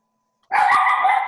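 A puppy lets out one sudden, loud, high-pitched bark close to the microphone after a moment of silence, drawn out into a short yelping whine.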